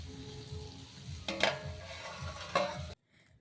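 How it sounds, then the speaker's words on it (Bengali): Bitter gourd and onion sizzle quietly in a pan with a couple of sharp clinks of a utensil stirring, then the sound cuts off. "করলাটা আমি পেঁয়াজ দিয়ে ভাজা করছি"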